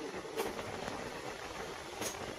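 A Yesvantpur–Dhanbad special train runs along the track, heard from inside a 3AC coach as a steady, fairly faint rumble and hiss with a couple of brief louder swells.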